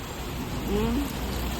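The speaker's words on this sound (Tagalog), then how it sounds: "lumakas na yung ulan" Heavy rain pours steadily during a storm with lightning, a dense hiss of drops on surfaces, with a brief faint tonal sound in the middle.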